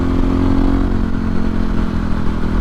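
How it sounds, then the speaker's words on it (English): A small motorbike on a ride through the Peak District National Park, its engine revving with a loud, close, steady buzzing drone and a rattling clatter that holds throughout without voices. "listen to my little bike go"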